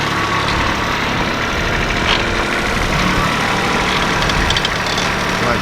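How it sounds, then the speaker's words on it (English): A small old tractor engine runs steadily while clearing a barnyard, a loud continuous low rumble and idle-like drone close by with no talking. "that little old tractor"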